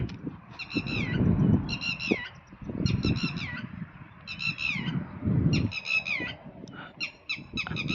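In a village forest, a bird calls repeatedly in short harsh bursts, about seven squawking calls spaced a second or so apart, over low rumbling background noise.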